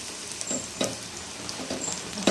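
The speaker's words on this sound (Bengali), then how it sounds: "খেতে দেবো তো গরম গরম, এখানে ভাজছি।" Small snacks frying in a pan of hot oil at home, a continuous close crackling sizzle with short bursts of spitting and popping, no one speaking.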